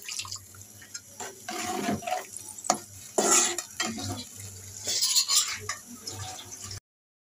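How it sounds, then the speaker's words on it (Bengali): Water splashing and swirling as a bowl is rinsed in a kitchen while chicken and mung dal cook, a series of uneven sloshes and clinks of moderate loudness ending abruptly. "বাটিটা ধুয়ে একটু পানি দিয়ে দিচ্ছি।"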